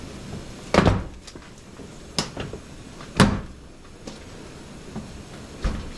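Plastic trim clips pop loose from a Toyota FJ Cruiser door panel as it is pried off, giving several sharp, separate snaps and thunks spaced unevenly over a few seconds, close by and without talk.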